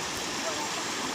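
Floodwater rushing rapidly through a village on a rainy day, a steady broadband roar of fast-flowing water that holds continuous and close throughout.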